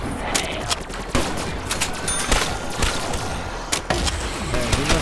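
Rapid ICR-1 rifle fire in Black Ops 3 zombies on Kino der Toten, round 22, bursts of loud sharp shots cracking in quick succession over dense chaotic game noise and zombie sounds.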